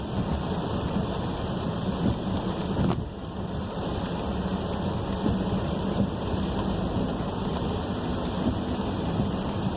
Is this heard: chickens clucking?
no